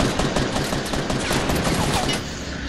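Sniper gunfire in a squad shooter video game, a dense, loud barrage of shots and explosions filling the whole clip without pause.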